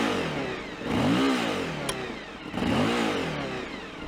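Suzuki V-Strom DE motorcycle engine revving twice in quick succession, each blip rising and falling in pitch, close and fairly loud with no talking.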